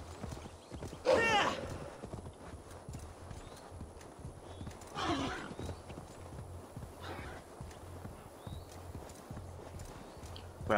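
Horse hooves clip-clop at a steady pace in the video game Assassin's Creed Valhalla, fairly quiet and continuous, with a few louder bursts that may be snorts or whinnies.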